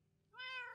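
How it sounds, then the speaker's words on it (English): A tabby kitten in Minecraft Skyblock gives a single short, clear meow that rises and falls in pitch, quiet and alone against faint low background noise. "We have a kitten."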